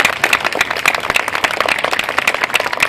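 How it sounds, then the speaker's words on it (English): An audience applauds Canadian soldiers who fought and died defending Hong Kong, giving a loud, sustained patter of many hands clapping with sharp individual claps standing out, no voices over it. "Yes, give them some applause."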